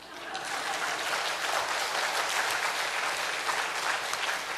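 Church congregation applauding together during a sermon, a steady, dense wash of clapping that holds evenly throughout.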